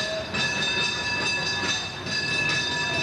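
A streetcar rolls past on its rails in an American city in 1991, a close, steady rumble of wheels with high metallic ringing and squealing over it.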